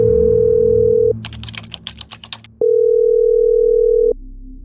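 Telephone line tones: a steady dial tone holds for about a second, then a quick run of touch-tone keypad beeps, then another long steady tone that cuts off, all clear with no talking.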